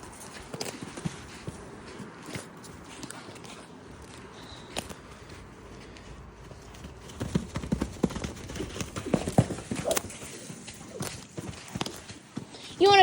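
A horse canters on a lunge line at a farm, its hooves giving soft rhythmic clip-clop thuds that grow louder and busier toward the end, with a person calling out intermittently over the footfalls.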